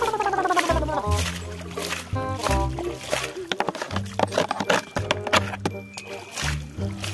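Water poured over a red toy truck to wash it, a splashing, trickling pour heard faintly under background music.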